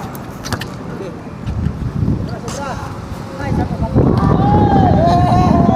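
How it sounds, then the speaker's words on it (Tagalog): Gusty wind buffets the microphone outdoors at a basketball game, rumbling in uneven bursts, with distant voices and a few high squeals in the background. "Mahangin nga lang."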